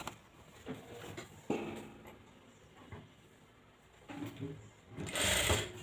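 Sewing machine stitching the side seams of a tucked blouse, running in short uneven bursts with pauses, fairly quiet with a louder whirring run at the end.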